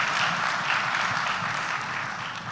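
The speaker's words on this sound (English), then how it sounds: "I think one more round of applause for Mr." Dense, even applause fills a summit hall for a speaker, a steady wash of many hands clapping together without breaks, loud and continuous throughout.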